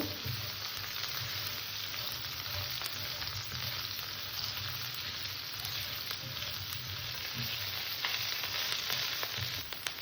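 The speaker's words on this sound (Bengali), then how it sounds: "হলুদ মশলা দিয়ে এটাকে ভালো করে কষে নেব" Sabudana khichuri sautéed in a pan with ginger paste, salt, coriander, cumin and turmeric, giving a steady, close sizzle and fry hiss that runs unbroken throughout, with faint stirring scrapes and no talk.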